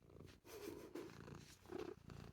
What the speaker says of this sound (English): He's got the nicest purr, hasn't he?